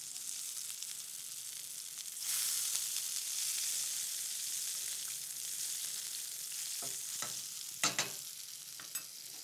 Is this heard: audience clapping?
no